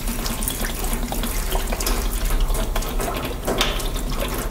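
Liquid from bottles of formaldehyde pours steadily down a sink drain, a loud continuous splashing gush with faint clinks, heard alone.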